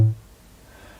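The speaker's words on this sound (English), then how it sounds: "it almost sounds like a drum" A synthesized drum hit built with Ruby code: one short, low thump that strikes at the start and dies away within a fraction of a second, leaving near silence.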